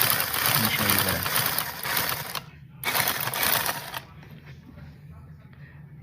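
A sewing machine runs close and steady, binding the edge of berber stair carpet. The whirring stitching stops briefly, starts again, then cuts out, leaving a low hum.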